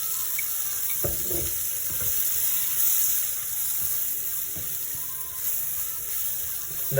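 Soya meat frying in a pan as chili powder is added: a steady, moderately loud sizzle with a few soft scraping stirs partway through, and no talking.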